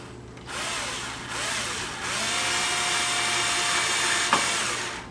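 A Black & Decker Pivot power drill starting up and running steadily on wooden soap molds, its motor whine close and loud with slight shifts in pitch, a short rub near the end.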